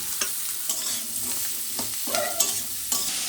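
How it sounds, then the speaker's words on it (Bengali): Cumin, green chilli and onion fry together in a pan with a loud, continuous sizzle, and a utensil stirs through it in several scraping strokes close by. "জিরে কাঁচা লঙ্কা আর পেঁয়াজ একসঙ্গে ভেজে নিচ্ছি"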